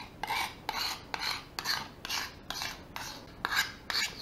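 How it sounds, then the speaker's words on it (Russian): Knife sharpened on a Rokat whetstone, rhythmic rasping strokes about twice a second, close and clear with no talk. "Попробуем точить."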